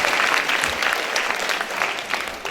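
An audience at a National Librarian Day school event claps steadily and fairly loudly for a speaker, a dense continuous patter of many hands throughout with no talk over it.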